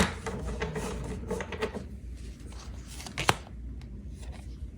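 Tarot cards are shuffled by hand in a steady riffling stream of soft papery flicks at close range, ending with a sharp tap and quieter handling.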